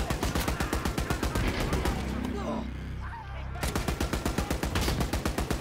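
Turret machine gun in Wolfenstein: Youngblood fires in long rapid bursts, loud and close, pausing briefly midway before resuming its steady rattling stream.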